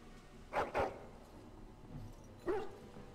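Two quick, close barks from a dog in the fantasy video game Dragon Age Origins, followed after a pause by a softer third yip over a quiet background.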